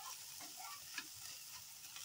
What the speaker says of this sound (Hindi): तो ऐसे में हमने गोभी और अंडे को फ्राई कर लिया है।